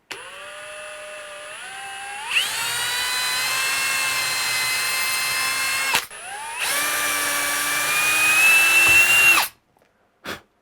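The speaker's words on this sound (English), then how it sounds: "I will pre-drill it again, just so I don't split this jamb." A power drill pre-drills a wooden door jamb for a strike plate, its motor whining up to speed twice in two sustained close bursts with a short pause between, then stopping.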